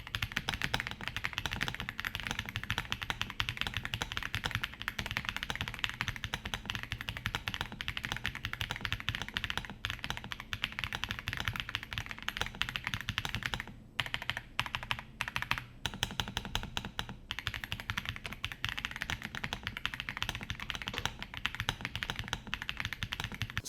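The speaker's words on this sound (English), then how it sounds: "So here's what it sounds like to type on this keyboard." Steady, rapid typing on a Redragon Artemis K719 Pro mechanical keyboard with crisp, clicky keystrokes, continuous and close, with a couple of short pauses.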